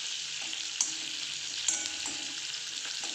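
Green chillies fry in a pan with a strong steady sizzle, broken by a few clicks and taps as they are stirred.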